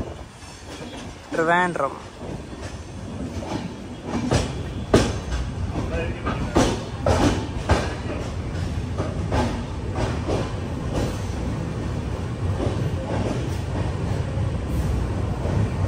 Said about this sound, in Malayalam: തിരുവനന്തപുരം സെൻട്രൽ റെയിൽവേ സ്റ്റേഷനിലേക്ക് ഇതാ നമ്മുടെ ട്രെയിൻ എത്തിക്കൊണ്ടിരിക്കുകയാണ്